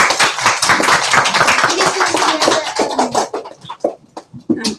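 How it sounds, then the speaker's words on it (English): A small audience applauds a school board candidate's presentation, with dense clapping that thins into scattered claps before fading out. "we'd like to give you a round of applause just for your presentation"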